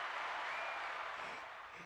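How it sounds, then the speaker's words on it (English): Brief burst of dense applause at a hand-clap greeting for a deputy chief, steady and fairly full, fading slightly toward the end. "I gotta give you a hand clap"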